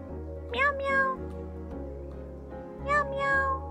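In the video game Calico, a cat in a cafe meows twice, a pair of clear, rising calls at each moment, over soft, steady background music.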